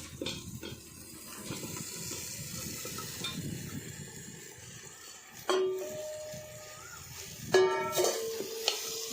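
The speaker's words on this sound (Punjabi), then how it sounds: "ਇਹਨੂੰ ਆਪਾਂ ਹਜੇ ਇਹਦੇ ਮਸਾਲੇ ਦੇ ਵਿੱਚ ਹੀ ਭੁੰਨਣਾ ਹੈ" Chicken pieces frying in a tomato and black pepper masala for a desi chicken curry, a continuous moderate sizzle with stirring scrapes and two sharper clatters near the end, close by with no talking.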